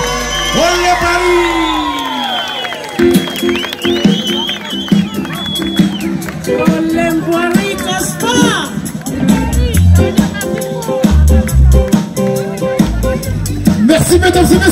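A concert crowd at an outdoor live show in a park cheers, whoops and claps in a loud, sustained wave, with shouts rising above the applause and a voice speaking over the noise.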